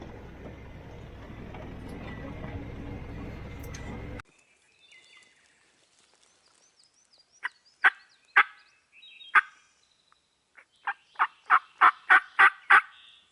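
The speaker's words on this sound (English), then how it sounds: "we got one gobbling" A wild turkey gobbles in the Kentucky mountains, a series of sharp, rattling calls at a middle distance that come in quick bursts after a stretch of noisy rustling and quiet, with no talk.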